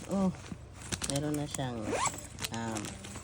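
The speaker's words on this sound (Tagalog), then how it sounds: "May zipper." A zipper on a bag from a Shein shopping parcel is pulled open in a few short, scratchy bursts, heard close up and mixed with a person talking.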